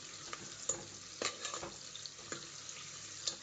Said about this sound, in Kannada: ಸ್ವಲ್ಪ ಚೆನ್ನಾಗಿ ರೋಸ್ಟ್ ಆಗಬೇಕು ಈರುಳ್ಳಿ ಎಲ್ಲ, ಅಂದರೆ ಬ್ರೌನ್ ಅಂತಾರಲ್ಲ ಆ ಥರ ಆಗಬೇಕು ಈರುಳ್ಳಿ ಎಲ್ಲ.